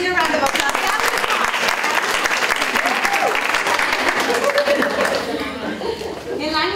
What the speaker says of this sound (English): Let's give them a bigger round of applause.